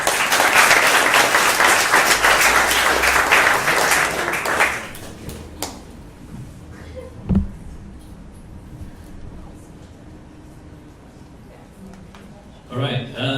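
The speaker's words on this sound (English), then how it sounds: "Can you give him a round of applause?" A live audience applauds loudly for about five seconds at a business talk in Singapore, the clapping dense and steady before it stops abruptly, leaving a quiet room with a few faint knocks and a soft rustle near the end.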